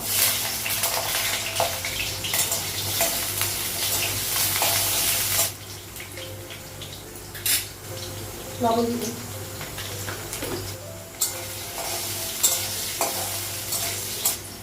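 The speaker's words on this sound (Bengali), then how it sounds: "কড়াই বসিয়ে দিয়েছি তেল আর কাঁঠালটা একটু সিদ্ধ করে নিয়েছি" Parboiled jackfruit fries in hot oil in a wok while being stirred, giving a steady close sizzle and scraping that is loud at first and then quieter, with a voice talking over it.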